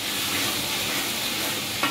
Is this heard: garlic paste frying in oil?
yes